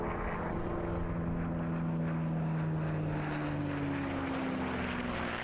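A Second World War warbird flies past at the Eastbourne International Airshow, a steady droning propeller engine roar heard from a distance, with pitch slowly sliding downward as it passes.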